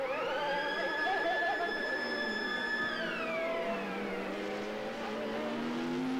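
A sports prototype race car sweeps past at Donington Park in 1992, its engine screaming loud at high revs, then the pitch drops sharply as it passes and fades into the distance, with no talk.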